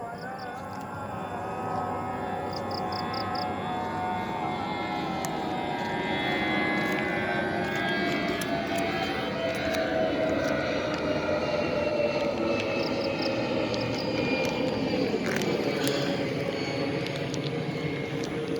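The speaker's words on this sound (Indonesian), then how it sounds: "Tuh pesawat yang sedang terbang." An airplane flies overhead near a cemetery in Palembang, a loud sustained engine drone with shifting whine that swells and holds steady for the whole stretch, with no talking.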